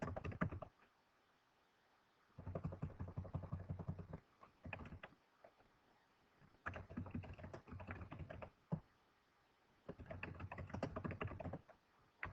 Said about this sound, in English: typing in their contact information